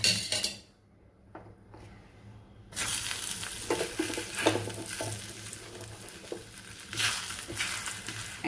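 Paratha roasting with a little ghee on a hot tawa, a near crackling sizzle that starts after a quiet moment and keeps going with occasional scrapes and clinks.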